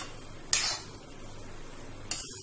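Paneer pav bhaji being stirred and cooked in a pan, with two sharp metallic scrapes of a utensil against the pan over a quiet background.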